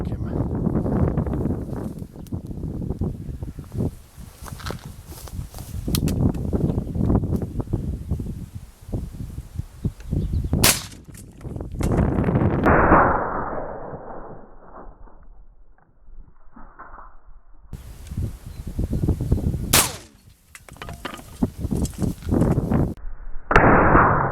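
A black powder gun loaded with 72 grains of powder and no wad fires at a model 67 helmet set 25 metres away; a few sharp, loud cracks stand out amid talking and rustling outdoor noise.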